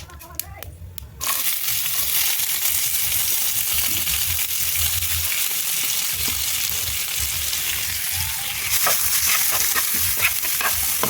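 After a few light clinks, big onions drop into hot oil with chana dal, mustard seeds and cumin, setting off a sudden loud, close sizzle that hisses on steadily with occasional stirring.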